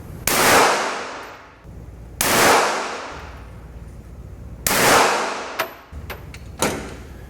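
Three sharp handgun shots fired at a target, each a loud crack with a decaying ring, spaced about two seconds apart, followed by a few fainter metallic clicks and knocks.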